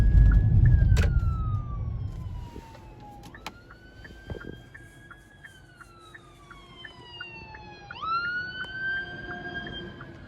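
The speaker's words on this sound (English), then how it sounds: "That's probably a fire truck" A fire truck siren wails in long rising and falling sweeps, fairly close and prominent over low street rumble, with a sharp upward whoop near the end.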